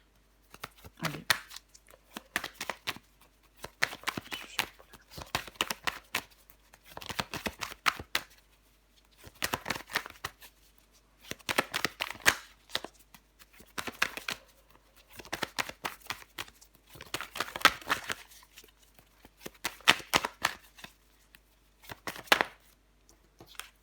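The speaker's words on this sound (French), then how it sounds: "Je vais quand même recouvrir le jugement." Tarot cards being shuffled in repeated bursts of crisp riffling and slapping, each run separated by short pauses, close and fairly quiet with no talking.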